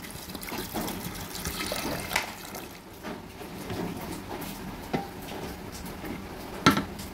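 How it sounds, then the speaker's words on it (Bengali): Water poured into a pot of soaked chana dal (split chickpeas) with salt for cooking, a steady close trickle with a few brief clinks of cookware, no talking. "দিয়ে দিচ্ছি কিছুটা নুন, দিয়ে দিলাম জল।"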